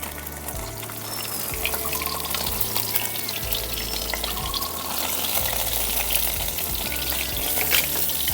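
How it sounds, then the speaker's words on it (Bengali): Pabda fish fry in oil in a pan, a constant close bubbling sizzle with a faint watery gush underneath and no speech. "একইভাবে সবগুলো মাছ ভেজে নেব।"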